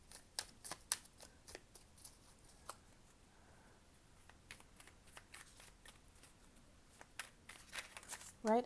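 Affirmation cards are shuffled quietly up close, giving repeated soft riffling snaps and slaps in irregular bursts over a faint, hushed background.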